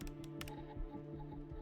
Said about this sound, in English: It interrupted my typing.